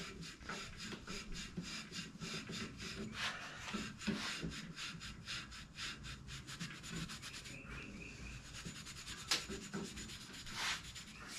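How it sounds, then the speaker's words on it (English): Steel wool scrubs an old 1930s bicycle part in quick, steady back-and-forth strokes, a dry scratchy rubbing repeated up close at low volume, with no talk. "Let's put some steel wool on this and clean this a little bit."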